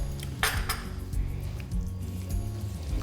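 Creamy mushroom and spinach curry being stirred in a pan: close, soft squelching and scraping with a couple of bright metallic clinks of a utensil against the pan.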